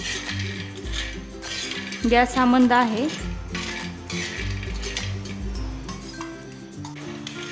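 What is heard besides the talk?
roasting sandge on hot tawa, utensil clinking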